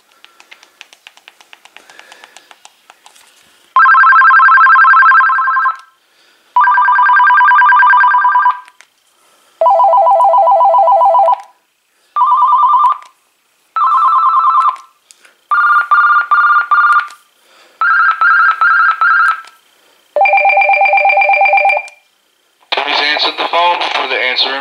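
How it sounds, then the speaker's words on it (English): A run of ringtones from an AT&T EP5995 cordless phone handset, about nine distinct electronic melodies in loud bursts separated by short gaps, each a bright tonal warble or chirp pattern, preceded by faint background sounds. "Now we're gonna check out the handset ringtones."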